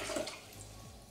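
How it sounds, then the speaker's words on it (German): Water is poured into a Thermomix TM5/TM6 mixing bowl, about one liter, a soft steady splashing gush heard close and alone for a brief moment. "Als allererstes brauchen wir Wasser. Und zwar einen Liter geben wir jetzt in den Mixtopf rein."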